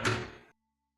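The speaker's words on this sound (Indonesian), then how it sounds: "gagang pintu berputar, perlahan, teratur." A door sound effect plays as a single heavy thunk that decays over half a second and is followed by silence.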